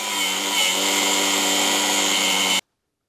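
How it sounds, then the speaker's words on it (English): A power tool grinds through the head of a nut on a galvanized Citroen Mehari chassis, giving a loud, steady, high-pitched whine that runs unbroken for about two and a half seconds and then cuts off abruptly. "So I'm just gonna cut the nut head off down here"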